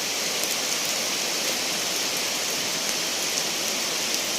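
Heavy rain pours down in a dense, unbroken hiss, steady and loud from start to end with no voices.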